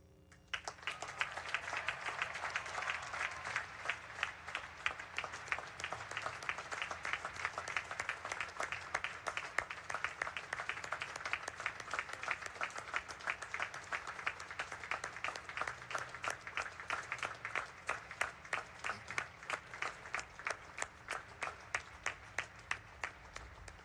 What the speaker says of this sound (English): I feel it is appropriate to acknowledge Taylor with a round of applause on this day